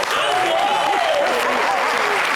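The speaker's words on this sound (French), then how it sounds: "On les applaudit très, très fort" Studio audience applause on an entertainment television show, a sustained even roar of clapping with a voice talking over it.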